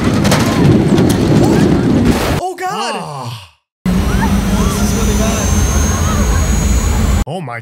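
Airplane turbulence scene in the 2004 disaster movie The Day After Tomorrow, with a loud roaring jet engine and rumbling cabin broken by a brief silence, while gasping, sighing voices react over it.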